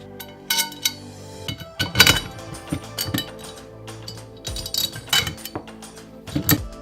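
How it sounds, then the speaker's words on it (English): A leftover metal closet bar being bolted to an F clamp, irregular close metallic clinks, taps and knocks of hardware and tools, with no talking. "I'm just gonna bolt this right to the clamp like that."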